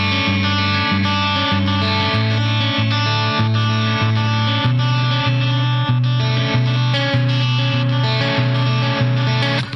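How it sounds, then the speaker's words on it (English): A clean electric guitar plays a finger-picked part over a single chord in a progressive metal style. Plucked notes ring out steadily over a sustained low line, close and full, with no voices. "that part is like a finger picking part."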